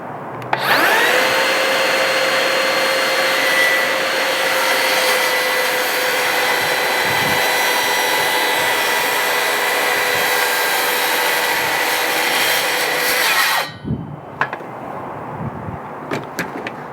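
A power sander whines loudly and steadily on wood for about thirteen seconds, then cuts off, leaving quiet handling noises.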